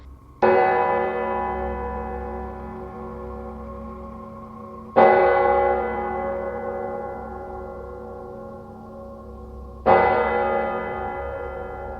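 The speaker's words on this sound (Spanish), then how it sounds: "Las campanas de la iglesia se dejaban sonar por toda la zona" A church bell tolls three times at steady, widely spaced intervals, each strike loud and ringing out into a long, slowly fading hum that carries into the next stroke.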